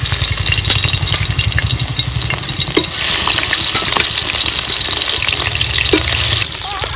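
Giant freshwater prawns, turmeric and salt rubbed, fry in hot oil in a wok, a loud continuous sizzle with crackling and spatter bursts, a low hum underneath, and no voices.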